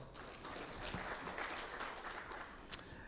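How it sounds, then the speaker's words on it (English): Audience applause at a launch event for an electoral justice compendium, a soft, somewhat distant patter of clapping with a single sharper clap near the end. "so a round of applause"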